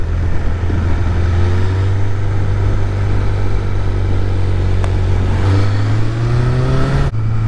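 A Suzuki GSF Bandit 600 motorcycle rides on the road, its engine a loud, steady, close drone with wind rush. The pitch climbs slightly near the end before a brief dip, and no one speaks.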